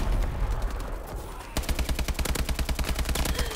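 Rapid bursts of gunfire from a weapon in a shooter video game, a fast string of sharp shots that runs continuously and loud, with a brief dip before the firing picks up again.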